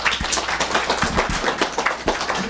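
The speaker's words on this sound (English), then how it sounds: "All that applause for 2 words that I just said?" An audience at a panel discussion claps in a loose, uneven burst, with scattered individual claps standing out from thinner applause, fairly close.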